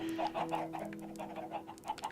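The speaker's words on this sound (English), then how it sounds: "of course there's chickens everywhere" Chickens in the video game Minecraft give a string of short, soft clucks at an uneven rhythm over a steady low tone, fairly close and moderately loud throughout.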